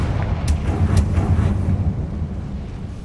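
A Confringo blasting spell explodes in the video game Hogwarts Legacy: a loud, rumbling blast with a couple of sharp cracks near the start, fading into a sustained low roar.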